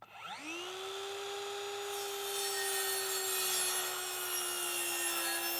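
A circular saw spins up with a rising whine, then holds a steady, loud, high tone as it makes a long straight cut through a board, guided by a spare board. The motor hum is bright and unbroken, with no voices.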